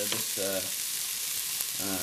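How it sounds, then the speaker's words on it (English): Water splashed into a hot frying pan while cooking a healthy meal, giving a steady broadband sizzle and hiss of steam throughout, with short scraping stirring sounds breaking through a few times. "take a splash of water so you get the steam going"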